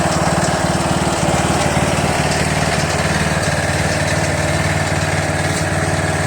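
A Troy-Bilt Pony lawn tractor with a 21 HP Briggs & Stratton Intek engine idles close by, burning off the fuel left in its carburetor, giving a steady loud mechanical putter with an even rapid firing rhythm and no talking.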